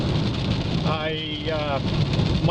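Steady rain hiss on the drive to a spring car swap meet at an auto museum, a continuous broadband wash with talk layered over it.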